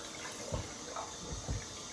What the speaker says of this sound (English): let me put some hot water on my face